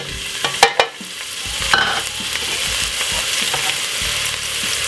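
White onion sizzles steadily in hot olive oil in a frying pan, a loud continuous crackling hiss that swells and holds, with a few sharp clatters near the start.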